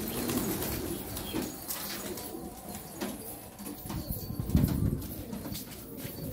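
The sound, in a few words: pigeon cooing and flapping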